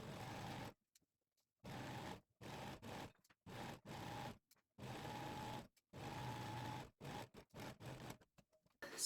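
A sewing machine stitches a 1 cm seam on a coat made from a tablecloth, running in bursts of a few seconds each with short pauses between. The motor whirs up close at a moderate level.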